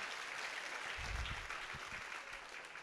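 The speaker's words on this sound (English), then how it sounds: "Let's give them a big round of applause." A room full of people at a fundraising gala claps steadily, a dense wash of applause at moderate distance that carries on throughout.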